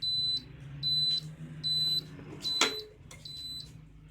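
A steam press beeps when ready in a regular pattern of short high-pitched tones, four or five evenly spaced bleeps with a soft thud partway through.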